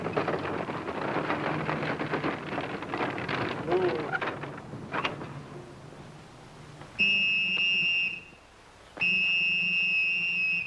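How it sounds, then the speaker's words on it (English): After a stretch of noisy rushing, two long, shrill whistle blasts sound loudly, separated by a short pause. "stop blowing that whistle"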